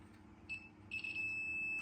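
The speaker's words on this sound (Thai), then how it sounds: "นี่ครับเสียงปี๊บดังอยู่นะครับ แสดงว่าต่อถึงกันนะครับ" A multimeter in continuity mode beeps during repair of a Makita battery charger: a thin steady tone sounds briefly, cuts out, then returns and holds, over a low electrical hum, with no talking.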